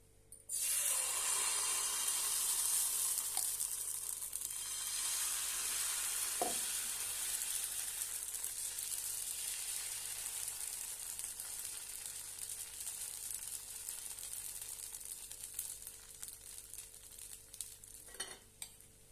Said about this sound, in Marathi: तवा गरम करायला ठेवलेला आहे गरम झालेला आहे आता आपण डोस्याचं पीठ घालूया